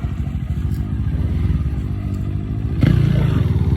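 A motorcycle ridden up a steep dirt trail at Pisapungan, its engine droning loud and close with rattling clatter, swelling into a harder rev near the end.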